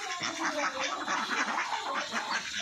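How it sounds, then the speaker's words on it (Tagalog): Busy quacking and chattering from a group of ducks close by, continuous and overlapping with no pauses. "papakain po natin sa ating mga alagang itik."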